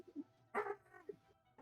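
Small dog giving a short yip and a whimpering bark, quiet and brief, alone with no talk.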